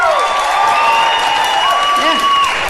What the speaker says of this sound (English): Applaud real big.